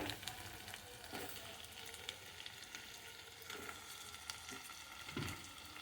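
Tomato pieces fry in oil with ginger garlic paste, giving a soft, steady sizzle with a few brief stirring knocks, quiet and close.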